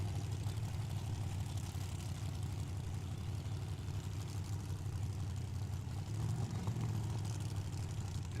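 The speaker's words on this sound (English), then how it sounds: "Tri-5 Chevy here. Sounds like it's got a Pro Charger on it." A Tri-Five Chevy drag car with a ProCharger supercharger sits at Tucson Dragway, its engine a steady, low rumbling drone heard from a distance with a slight swell near the end.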